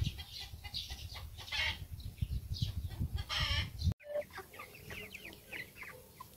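Thirty-day-old broiler chicks cluck and peep in a busy cluster nearby, with overlapping short calls and some scratching and rustling, and no talking.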